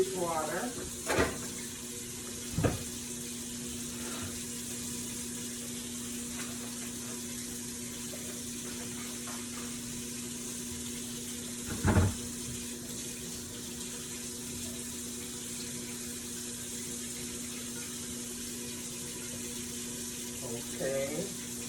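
Tap water runs steadily into a kitchen sink, filling it with dishwater, a constant soft rush with a few sharp clinks and knocks scattered through.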